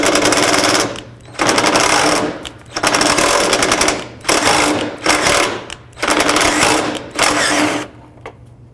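A power tool, likely an impact driver or drill, loosens and removes headlight bolts on a 2001-07 Toyota Sequoia, running in five or six loud, close bursts of whirring and rattling with short pauses between them.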